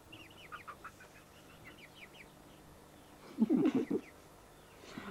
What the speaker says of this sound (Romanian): Îi filmez un pui.